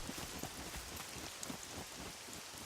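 Steady rain in the survival game SCUM, a dense broadband patter of drops falling continuously with faint low rumbles underneath; no distinct thunderclap stands out.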